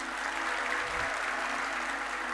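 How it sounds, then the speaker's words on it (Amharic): A church congregation at an Ethiopian prophetic service claps together in a short burst of steady applause that fills the room at moderate volume. "እስቲ ለእግዚአብሔር ክብር አጨብጭቡ እስቲ"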